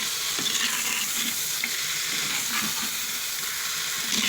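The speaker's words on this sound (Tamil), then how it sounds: "மல்லித்தூள், மஞ்சத்தூள், மிளகாய் தூள் எல்லாத்தையும் போட்டு வதக்கிடலாங்க" Coriander, turmeric and chilli powder fry in a pan for a village-style greens-stem and dried-fish curry, a steady loud sizzle with soft scraping stirs throughout, no voices.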